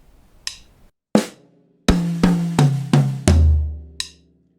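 A beginner drum fill rings out alone: a few isolated hits, then a quick run of strokes moving from the snare down through the high, middle and low toms, each boomier and lower than the last, closing with a final crisp hit.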